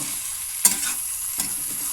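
Meat frying in a small pan for mandi, a steady sizzle with a couple of sharp spattering pops, close and continuous with no voices.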